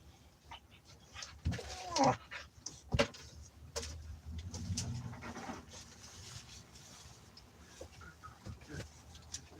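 A puppy pants quietly and close by in rapid soft breaths, mixed with faint rustling and small knocks, and a voice can be heard faintly in the background.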